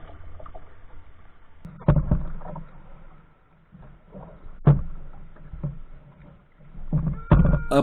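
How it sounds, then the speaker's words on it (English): Paddle strokes splash and knock against a kayak hull on a swift, shallow river at a river headwater, a few distinct thumps and drips spaced irregularly over quiet moving water. "The current was fairly swift, so we were able to paddle at a decent pace"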